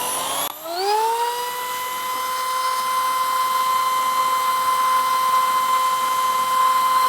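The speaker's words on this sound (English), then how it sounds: "If I turn my drill on, we'll see how much I can pull then" An electric drill powered by a Jackery Solar Generator 1000 v2 portable power station spins up and runs in a steady, continuous high-pitched whine, close and unbroken after a brief start.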